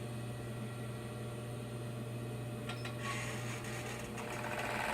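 A sewing machine runs a 3/8 inch seam on a vest, a steady low motor hum lasting throughout, with a brighter rattling whir building in the second half.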